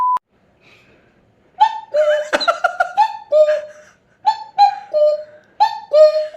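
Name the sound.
person imitating a cuckoo call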